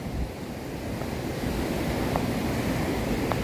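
Ocean waves at Atlantic Beach, Florida, heard as steady surf roar with some wind noise against the microphone, continuous and fairly loud, with no talking.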